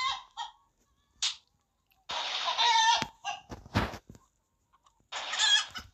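Cartoonish chicken clucks and squawks from the Chicken Range video game come in short, separate bursts with silent gaps between them, mixed with brief game effects.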